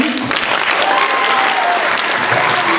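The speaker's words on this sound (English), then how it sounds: "at this point we can clap for Kareem Ray," At a school poetry slam, an audience claps steadily for the judges, a dense and loud wash of many hands that holds evenly throughout, with a faint voice underneath.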